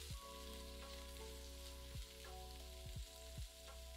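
Chopped onion and tomato sauté with salt in a pan, a soft, steady sizzle with a few brief stirring scrapes over a low background hum.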